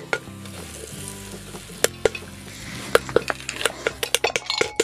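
Corn kernels popping in a pressure cooker, sharp irregular pops and clinks against the metal pot that grow more frequent, over a low steady sizzle.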